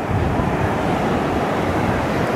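Ocean surf rolls in on the beach at Santa Monica, a loud, steady broadband wash of breaking waves mixed with wind buffeting the microphone, continuous with no voices.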